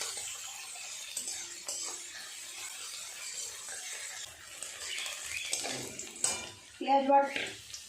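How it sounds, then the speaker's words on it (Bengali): Onions are fried and stirred in a pan in a home kitchen, giving a faint, soft sizzle and a few clinks and scrapes of a utensil against the pan that grow louder toward the end. "পেঁয়াজটা ভালো করে ভেজে নেবো নেড়ে চেড়ে।"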